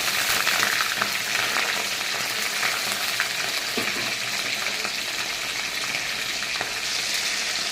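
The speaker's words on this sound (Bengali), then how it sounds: "আমি কিন্তু একদম হালকা করে ভেজে নিচ্ছি" Gandharaj chicken pieces fry in a pan with a steady, dense sizzle and crackle, close and fairly loud, with a few light stirring clicks and no talking.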